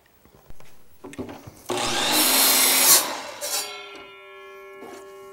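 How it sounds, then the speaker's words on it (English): A power drill whirs loudly into wood for a couple of seconds on a log stairway, then winds down with a fading motor whine. "we'll finish drilling this"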